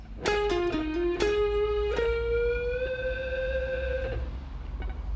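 Electric guitar playing the closing solo bar of a song: a handful of picked notes high on the neck, ending on a long bent note with vibrato that sustains and fades, alone and close.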